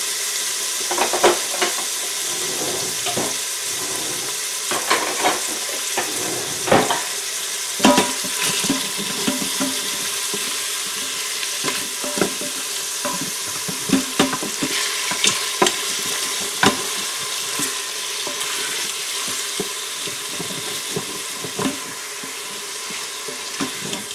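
Chicken sizzles in an Instant Pot while being stirred, with a loud continuous hiss of frying and frequent scraping, clattering stir strokes throughout, close up and without speech.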